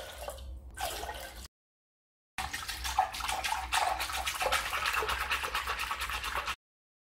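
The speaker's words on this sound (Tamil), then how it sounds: "இப்போ தேவையான அளவு தண்ணி சேர்த்துட்டு இதே மாதிரி சிலிப்பிக்கலாம்." Buttermilk mixed with water being churned with a wooden churn stick, a busy wet sloshing and swishing that comes in two stretches separated by a silent gap, close and fairly quiet.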